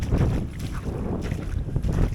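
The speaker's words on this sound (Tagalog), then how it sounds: "Malakas ng hangin no? Ramdam na dito sa camera." Strong wind buffets the camera microphone on a shore during shorecasting fishing, a heavy low rumbling roar that gusts unevenly and never lets up.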